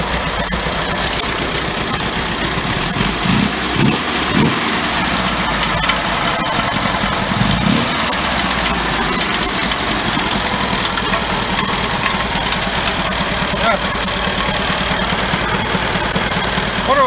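1963 car engine idling steadily just after starting, a continuous close rumble with a slight uneven knock, loud and alone without talk.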